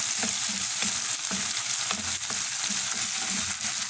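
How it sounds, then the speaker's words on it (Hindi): Finely chopped tomatoes with garlic-ginger paste fry and sizzle steadily in a pan, a loud continuous hiss broken by occasional soft stirring scrapes, with no voices. "अब इतनी देर तक इसको पका लेंगे कि टमाटर नरम पड़ जाएं।"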